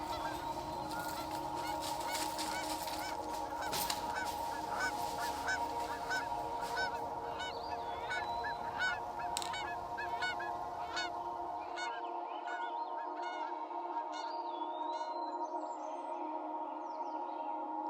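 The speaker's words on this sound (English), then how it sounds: "That's geese." Geese honk repeatedly in a steady run of calls, some close and loud, others further off, over a constant low drone of background noise that drops away near the end while the honking continues.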